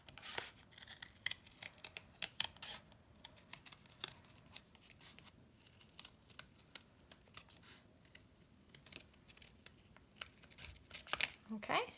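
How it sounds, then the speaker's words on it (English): Scissors snip through paper to cut out a papercraft suncatcher heart, making light, irregular crisp clicks and rustles at a quiet, close level, with soft talking faintly in the background. "So now I'm going to take my scissors and just cut that out."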